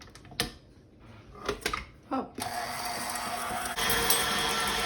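A kitchen blender mixes chocolate chip biscotti cookie dough. After a few clunks and handling noises it switches on and whirs steadily and loudly to the end, and a brief voice is heard early on.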